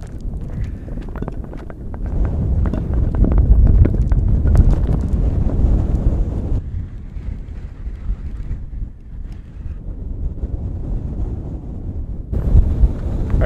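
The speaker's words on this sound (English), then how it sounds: "the wind is just blowing crazily right now" Strong outdoor wind buffets the microphone in a steady, loud, low roar, easing briefly midway and surging again toward the end, with no voices.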